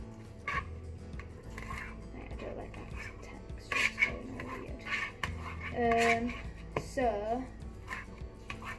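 A knife, not a very sharp one, cuts up food for feta tomato pasta with repeated scraping and tapping against a board and dishes, close and fairly quiet, while someone speaks briefly.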